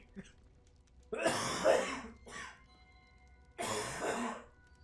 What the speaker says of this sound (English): I'm not editing out that cough